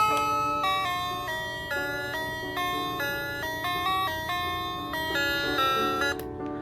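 A musical Christmas village decoration plays a bright, tinkling music box-style melody of evenly spaced notes, clear and close, ending abruptly.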